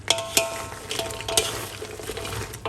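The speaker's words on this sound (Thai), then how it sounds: "ปิดแก๊สได้เลยคลุกค ลุกให้เคลือบทุกอันค่ะ" Crispy Thai krong krang snacks are stirred and tossed in a pan over low heat, producing a dry scraping and rattling with several sharper clacks, moderately close and with no talk.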